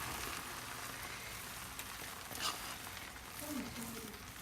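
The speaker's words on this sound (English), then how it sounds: "So I'm just gonna put it in there, get everything in there, stir it up one more time" Green bell peppers stirred into a pot of Ghana jollof rice, giving a steady soft sizzle with faint scraping and a couple of brief clinks, close and even throughout.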